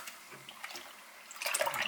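Liquid for clear ballistic gel pours into a bowl with a brief splashing, faint at first and then building toward the end.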